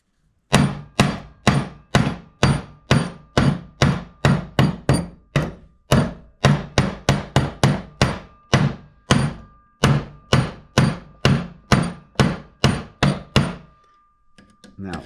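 A hammer strikes hot metal on an anvil while a talisman is being forged, about thirty loud, close, ringing blows in a steady rhythm with brief pauses, ending in a faint ringing tail.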